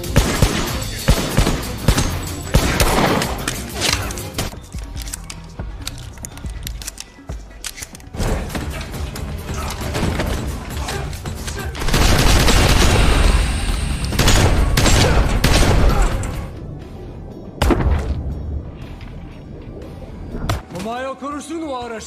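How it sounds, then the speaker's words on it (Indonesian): Gunfight from the action film John Wick Chapter 3, with dense, loud bursts of gunfire, impacts and slams that come in rapid clusters and sustained barrages, mixed with dramatic music and effects, while a narrator talks over it. "Lalu John pun memulai perangnya dengan anak buah dari The Adjudicator"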